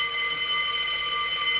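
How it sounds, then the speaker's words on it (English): A fire alarm rings inside a prison, a steady electronic tone held without a break for the whole moment, loud and continuous with no voices over it. "You heard the fire alarm, so who's on fire?"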